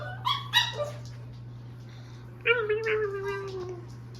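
A cat meows in a few short, bright calls early on, then a longer drawn-out meow that slides downward in pitch, close and fairly clear over a steady low hum.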